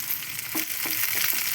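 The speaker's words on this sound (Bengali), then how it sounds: "পেঁয়াজটা আগে ভেজে নেব।" Onion frying in hot oil in a wok over a gas flame, a steady close sizzle with a few soft stirring scrapes.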